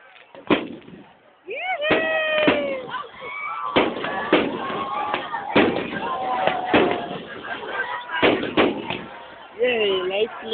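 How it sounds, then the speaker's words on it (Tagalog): Fireworks going off at a July 2008 celebration in Ozamiz, Cotta, Philippines, a string of sharp booms and crackles at irregular intervals, fairly close, with excited voices and cheering between the blasts. "Yay, lights looking fireworks. Fireworks."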